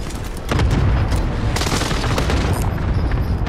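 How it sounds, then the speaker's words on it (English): Cluster airstrike explosions in Call of Duty: Modern Warfare, a dense, continuous barrage of booming blasts and rattling gunfire that swells loud after a brief lead-in and keeps rolling without pause. "Requesting airstrike on my coordinates"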